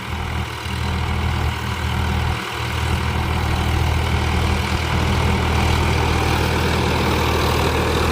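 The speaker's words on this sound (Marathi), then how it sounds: "ड्रायव्हर मामांनी बरोबर मधोमध घालीत ट्रॅक्टर आणलेला आहे." A tractor engine runs steadily in a farm field, a loud, continuous low rumble close by with no talk over it.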